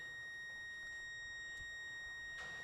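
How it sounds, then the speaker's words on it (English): A steady high electronic beep holds continuously through a quiet room, with a faint click or two in the background, from a tester checking a car's clutch position control. "it's beeping at me"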